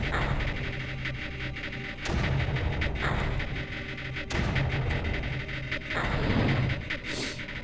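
Artillery mortar shots in Creeper World thump out repeatedly at roughly one-to-two-second intervals, each a loud dull boom over a steady droning game background.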